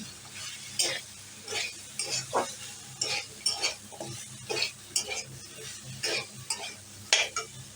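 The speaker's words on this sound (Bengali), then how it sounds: "কচু আর আলুটা দিয়ে কষিয়ে নিচ্ছি" Taro and potato being stir-fried in spiced oil in a pan, with repeated rhythmic scraping strokes of a spatula over a steady low sizzle, close and clear, with no talk.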